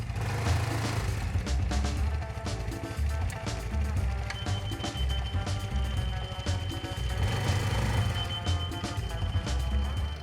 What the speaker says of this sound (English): there is a signal when the reverse is on